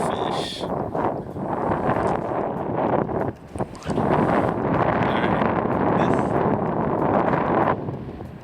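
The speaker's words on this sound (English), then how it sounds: "Listen to that wind." Strong wind rushes over a small boat on the water at sunrise, a loud continuous roar buffeting the microphone with gusts and a brief lull partway through.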